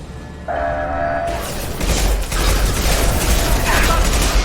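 A heavy metal shutter closes in the Mass Effect video game, starting with a mechanical whir and tone, then a loud, sustained grinding rumble of machinery as it slides shut.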